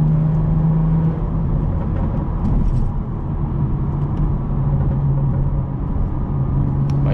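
A tuned BMW 440i with 75k miles drones under acceleration, a low, steady engine and exhaust rumble heard from inside the car, with a few light crackles on top.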